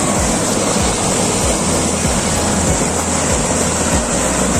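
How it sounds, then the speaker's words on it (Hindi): Fast water rushes through a village canal in Safipur Bamhana, Unnao, making a loud, continuous roar and wash close by with no voices. "कितनी तेज पानी है"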